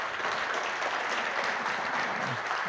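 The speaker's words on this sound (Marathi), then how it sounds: "एकदा जोरदार टाळ्या वाजवून आपण पुन्हा एकदा" Loud, steady applause from a seated audience at a talk on diabetes and weight loss, dense clapping sustained for the whole stretch without any voice over it.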